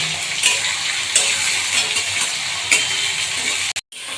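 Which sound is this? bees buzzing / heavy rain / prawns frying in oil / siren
prawns frying in oil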